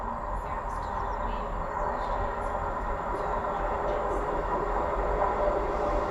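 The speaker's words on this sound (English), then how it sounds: "arriving now is our train to take us to Kinghorn" A ScotRail Class 158 diesel train rumbles steadily as it rolls into an Edinburgh platform, a low continuous drone with faint squeals and distant bird chirps above it.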